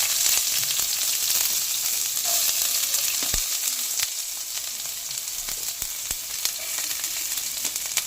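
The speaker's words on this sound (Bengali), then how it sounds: "এবার আমি এর মধ্যে কিছু পেঁয়াজ কুচি দিয়ে দেবো।" Chopped onions fry in hot oil, giving a steady, close sizzle that runs without pause and with no talking.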